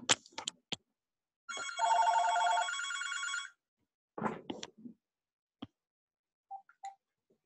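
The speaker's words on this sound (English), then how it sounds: "nothing like a junk phone call in the middle of working at home" A home telephone rings in one clear electronic burst lasting about two seconds, surrounded by scattered faint clicks and taps in an otherwise quiet room.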